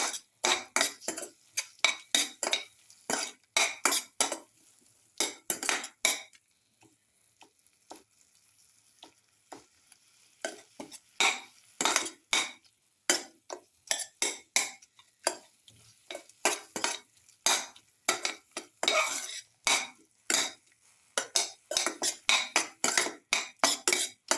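Metal utensil repeatedly stirring and scraping a garlic, tomato and coconut milk casserole in a pan, with quick irregular clinks and scrapes running throughout, pausing briefly near the start before resuming steadily.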